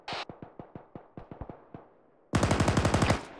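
Automatic gunfire in the military shooter game Arma 3: a sharp single shot, then a steady run of about a dozen evenly spaced close rounds, a short pause, and a louder, faster burst.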